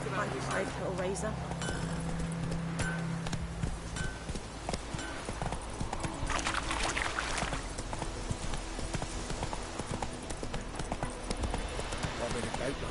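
Hooves of Roach, the horse in a Witcher video game, clip-clop in a steady rhythm throughout, mixed with game ambience and voices talking over it.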